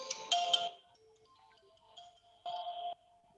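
A phone ringtone sounds for an incoming call, a bright melodic electronic tune in short bursts with pauses, fairly quiet and alone.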